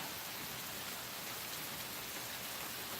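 Rain pours down in a dense, unbroken wash of hiss, fairly faint and alone, with no speech.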